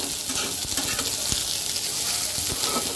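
Potato, eggplant and green chilli frying in a pan, a steady dense sizzle and crackle with occasional soft stirring clunks, close and continuous with no talk.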